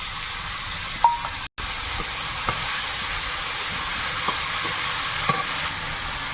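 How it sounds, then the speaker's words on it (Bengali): Onion, garlic and chilli frying in a pan as tomato goes in, a steady soft sizzle with occasional light clinks of a spoon stirring. "পেঁয়াজ রসুন লঙ্কা সব ভাজা হয়েছে এবার টমেটোটা দেবো"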